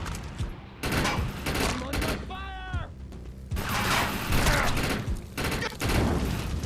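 Gunfire in the video game Defiance: dense bursts of rapid shots and clatter, loud and close, with a brief in-game voice cutting through the shooting.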